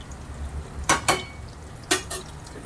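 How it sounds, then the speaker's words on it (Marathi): Vada fritters frying in oil over a medium gas flame, a low steady sizzle broken by a few sharp clinks of a utensil against the pan, close by with no talk. "बघा इकडे आपले वडे फ्राय होत आहेत"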